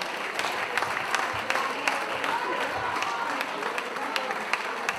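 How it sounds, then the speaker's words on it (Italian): Audience applause at an award ceremony, a steady wash of clapping with scattered sharper claps filling the whole stretch at moderate loudness, with no talk over it. "vorrei un caloroso applauso per tutti quanti noi all'interno di questa serata"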